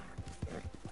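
Horse hooves clip-clop on the ground in Red Dead Redemption 2, four or five even, close, moderately loud hoof beats in a steady trotting rhythm, with no talking.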